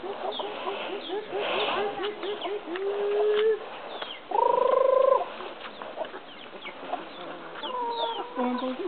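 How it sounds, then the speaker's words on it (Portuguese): Chickens cluck and squawk in agitated bursts as they are chased, with drawn-out calls between short clucks, mixed with voices talking and shouting nearby. "pega a galinha"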